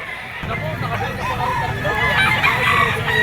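A rooster crows amid a busy gamefowl pet market, with a steady babble of voices and general crowd noise running beneath the call.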